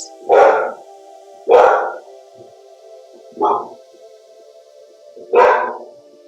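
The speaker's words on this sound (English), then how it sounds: "I apologize for the dogs upstairs." Four sharp dog barks from upstairs spaced a second or two apart, heard from a slight distance over a quiet, steady hum.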